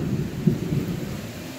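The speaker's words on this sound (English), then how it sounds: "Oh, the rain just started." A thunderstorm rumbles deep and heavy as rain begins, a low rolling roar that swells briefly early on and then settles under a steady hiss of falling rain, with no talking.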